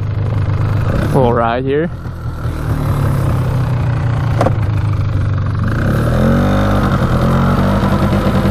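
A cheap 4x4 ATV engine started without the choke, running and idling with a steady low chug close by, a brief rev in the middle, while someone talks over it.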